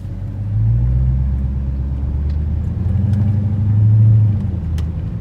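A 707-horsepower Dodge Hellcat engine idles in a deep, continuous rumble close by, swelling briefly louder toward the end with no talking.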